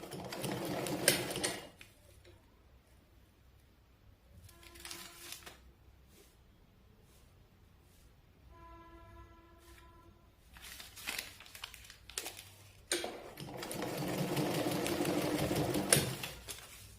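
A sewing machine stitches fabric from an old nightie being reused as a cushion cover, running in several bursts of fast, steady whirring and clattering. The longest run comes at the end, with quieter handling of the cloth between bursts.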